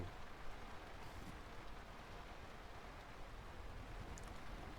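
Steady rain falls over a choppy sea in the farming game Lightyear Frontier, a dense, even hiss of raindrops with soft wave wash beneath, calm and uninterrupted.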